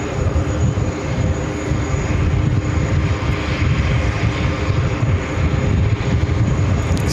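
Boeing 777-300ER jet at JFK airport, heard as a loud, steady broadband engine roar that stays continuous and close throughout with no pauses.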